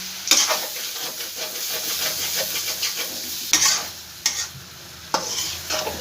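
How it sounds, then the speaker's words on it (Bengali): Soybeans being stirred and sautéed with spices in a pan, a soft steady sizzle broken by several sharp scraping strokes of the spoon, close and fairly quiet. "দেখো মশলার সঙ্গে আমার খুব ভালো করে কষানো হয়ে গেছে সবগুলো"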